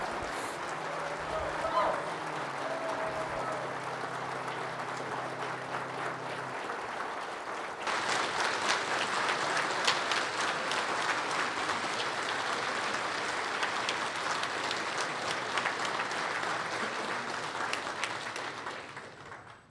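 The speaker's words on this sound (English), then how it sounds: "You will greet him with a hearty round of applause." Hearty applause from lodge brethren and friends at a Grand Lodge officer installation, a broad sustained round of clapping filling the room for over ten seconds after a spoken introduction, then fading out.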